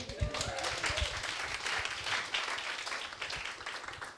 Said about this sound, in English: Another round of applause for Dana, everybody.